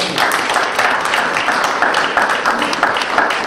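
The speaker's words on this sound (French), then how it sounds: "Merci pour ces applaudissements." Loud, dense applause from a crowd at a Senegalese community gathering in France fills the room as a steady, unbroken wash of many hands clapping close by.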